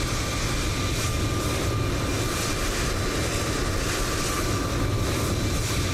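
Loud, steady jet engine roar from a Ryanair airliner sitting right behind, in Microsoft Flight Simulator 2020, a continuous broadband drone with no voices over it.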